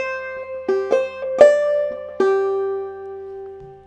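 A clawhammer banjo plays the opening measure of the tune Snowdrop as a handful of bright plucked notes, some struck close together, ending on a sustained ringing tone that slowly fades.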